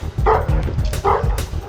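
Dogs bark in a quick series of yips and woofs, loud and close, with a couple of sharper high yelps between them.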